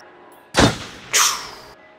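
A gunshot in the video game Until Dawn, two sharp loud blasts about half a second apart, each cut off short, with near silence before and after.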